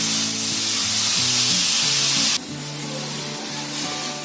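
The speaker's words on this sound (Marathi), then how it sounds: "आता ही तव्यामध्ये बघा ही दोडक्याची साल टाकली आहे" Ridge gourd peel sizzles on a hot griddle pan, a loud, close, steady frying hiss that drops sharply in level partway through and carries on more quietly, with faint low tones beneath it.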